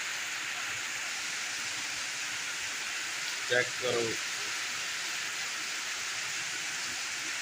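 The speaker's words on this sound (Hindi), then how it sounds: "आज साहिवाल इलाके इतनी जोर मूसलाधार बारिश हो रही है, बड़ी ज़्यादा बारिश हो रही है।" Heavy torrential downpour in the Sahiwal area, a dense steady hiss of rain running unbroken throughout, with a brief spoken phrase near the middle.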